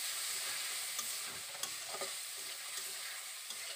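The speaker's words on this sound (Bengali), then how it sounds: "আবারও আমি এই উপকরণগুলোকে ভালো করে নেড়ে চেড়ে কষিয়ে নেব" Spices and tomato paste fry and sizzle in a pan for a chana dal dish, with a steady broadband hiss and a few soft clinks and scrapes of stirring, close and continuous with no talk.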